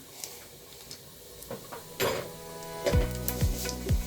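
Dried red chillies, cumin and fenugreek sizzle in hot oil for sambar, a soft steady crackle broken by a few sharp clinks and scrapes of stirring.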